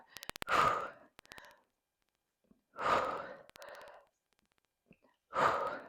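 Three forceful, audible exhales during an upper-body exercise workout, each a loud, breathy burst separated by pauses, with a few short clicks in between and no talking.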